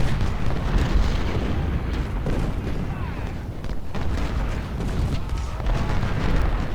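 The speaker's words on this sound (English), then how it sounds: "Whitworth 20 pounders and Blake also shoot at Henry" Whitworth 20-pounder artillery firing in a Civil War strategy game, heard as a loud, dense, continuous rumble of booms and bursts filling the whole stretch without clear pauses.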